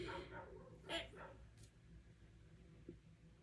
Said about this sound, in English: And the neighbor's dog starts barking.